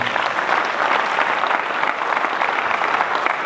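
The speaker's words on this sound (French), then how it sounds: "Applaudissez pour ces 200 millions-là." Dense, energetic applause from a large audience in a congress hall, continuous and even throughout with a crowded, roomy texture and no voices on top.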